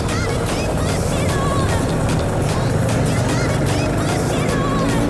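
A Jawa 638 or KTM Duke 390 motorcycle engine revs hard and continuously at close range, a loud sustained roar with rising and falling throttle, with wind buffeting throughout.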